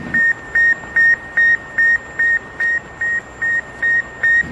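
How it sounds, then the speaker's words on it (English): Sputnik 1 satellite radio signal as picked up over shortwave: a steady, loud electronic beep repeating about every 0.4 seconds, a dozen even pulses over a constant hiss. "It just released a beeping sound that could be picked up over shortwave radio as it passed"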